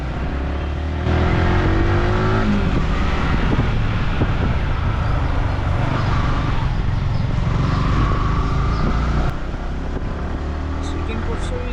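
A Yamaha R15M (V4) motorcycle engine runs loudly and continuously nearby, with rising revs now and then, while a person talks over the steady engine noise.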